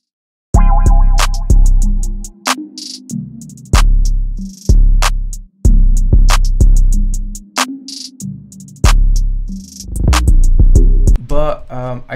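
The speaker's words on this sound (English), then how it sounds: "For the second hi-hat, really bouncy, it sounds like this." Bouncy hi-hat pattern in an FL Studio beat, crisp ticks in a skipping, uneven rhythm over booming bass hits and a soft melodic pad, loud and alone with no voices.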